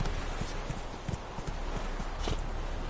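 Roach the horse galloping in The Witcher 3, a brief burst of quick, close hoofbeats in an uneven rhythm over a rushing background.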